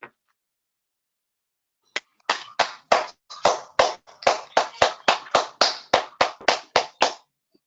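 Attendees at a board meeting clap: a lone clap, then a steady run of about fifteen sharp, evenly spaced claps, close and fairly loud, with no talk over them.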